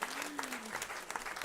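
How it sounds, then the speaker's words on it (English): A short, faint burst of audience applause rises at an interactive regenerative agriculture celebration, lasting only a moment. "Please give him a round of applause as he hobbles up here."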